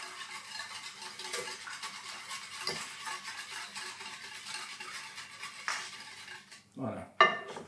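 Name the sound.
stirring milk and brown sugar in a pot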